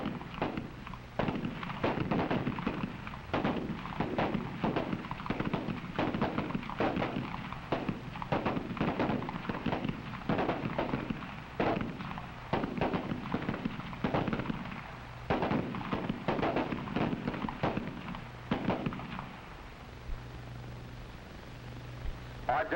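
Steady volleys of rifle gunfire ring out along a shooting range firing line, dozens of sharp cracks in a fast, uneven rhythm for about twenty seconds before thinning out near the end.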